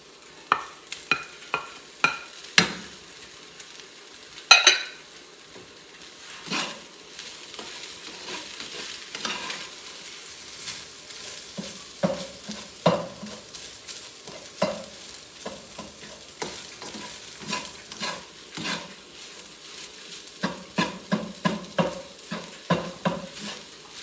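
Egg frying and being stirred in a pan while cooking brown fried rice, with a steady sizzle broken by repeated sharp scraping and clattering strokes of the spatula, close and fairly loud.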